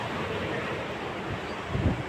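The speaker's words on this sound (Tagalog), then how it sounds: "Grabe talaga, ang lakas po talaga ng hangin." Strong typhoon wind roars and buffets the microphone with a constant rushing noise, with a heavier gust near the end.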